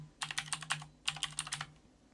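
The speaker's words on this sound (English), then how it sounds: "Now you can type in whatever you want for your project." Close, quick keystrokes on a computer keyboard come in two short bursts of about eight taps each, with a low electrical hum underneath.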